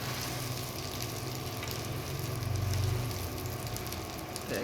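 An egg fries in a pan with a soft, steady sizzle and crackle that swells slightly midway, fairly quiet and uninterrupted.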